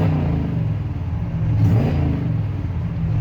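Stock-sounding engine of a Ford F-100 pickup with a 5-speed, long tube headers and glass packs, running steadily with a low, even rumble and mild revving, fairly close and continuous, with no talking.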